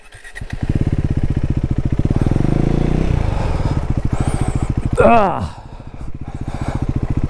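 A KTM 390 Adventure motorcycle ploughs through deep water, its single-cylinder engine chugging loud and close in a steady pulsing rhythm, briefly revving higher, while voices talk over it.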